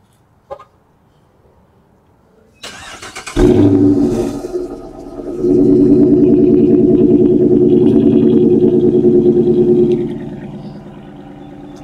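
A 2013 Dodge Charger R/T with a Corsa cat-back exhaust cranks over and fires, then revs up into a loud, steady rumble that holds for several seconds before settling, heard close by with no talking.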